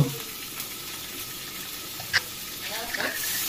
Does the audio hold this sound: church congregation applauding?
no